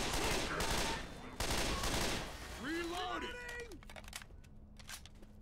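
Rapid gunfire in a Left 4 Dead 2 versus match, dense bursts of shots that fade toward the end, with game sound effects and voices talking over the action.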